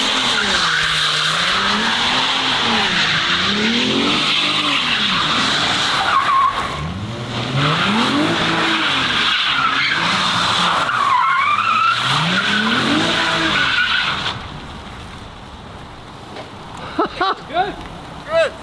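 Drift cars, including a twin-turbo Ferrari, skid hard with sustained tire squeal and roaring, revving engines rising and falling in waves, loud and continuous before fading into quieter squeaks at the end.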